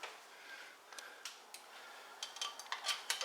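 Metal pot lid clatters and taps against a cooking pot of 15 bean soup, a string of sharp light clinks and knocks, close and fairly quiet, without talk.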